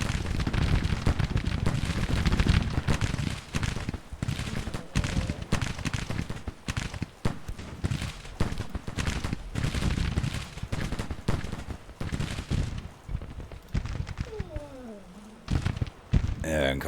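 Civil War battle in a strategy game, with artillery booms and crackling musket volleys rolling on heavily throughout, a rising whistle near the end as the din briefly thins.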